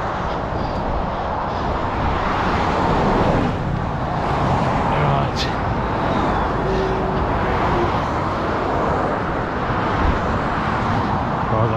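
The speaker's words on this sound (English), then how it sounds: "Truck coming up near that blue one." Road traffic on the M40 motorway with a truck approaching close by, heard as a steady, loud broadband roar of engines and tyres that fills the whole stretch without letting up.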